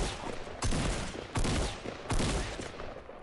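Three heavy bursts of automatic gunfire in Fortnite, spaced roughly evenly apart, loud and broadband with a decaying tail after each burst, no talking.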